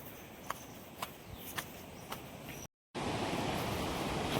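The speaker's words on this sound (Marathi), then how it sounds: "तर पोचलो आम्ही धबधब्याला धबधब्याजवळ तो बघू शकता तुम्ही समोर धबधबा आहे" Ranpat waterfall at Ukshi in the Konkan: a loud, steady broadband rush of falling water bursts in after a brief silence, following a quieter stretch with faint footstep taps.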